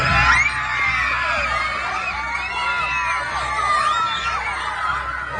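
A crowd at a Santacruzan procession shouting, whooping and cheering over one another, with high excited voices rising and falling steadily throughout.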